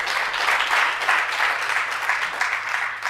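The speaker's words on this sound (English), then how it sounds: "Let's give him a round of applause." A round of applause from an audience at a research outputs workshop, a steady wash of many hands clapping at moderate level, swelling slightly in waves, with no talking over it.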